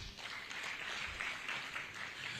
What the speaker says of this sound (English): Don't we clap for them?